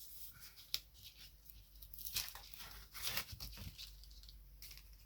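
Double-sided tape is torn and pulled from its roll in a few faint, close, ripping bursts with small crinkly handling noises between them.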